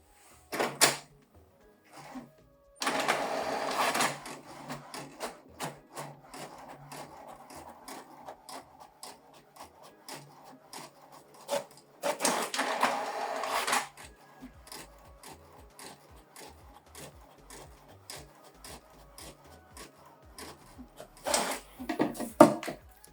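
An HP Deskjet Plus 4100e printer prints a two-page black-and-white document, with loud bursts of paper feeding, a busy run of rhythmic clicking and whirring carriage passes, then another feed and a final short whir, up close in a quiet room.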